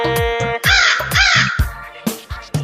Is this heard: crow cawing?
yes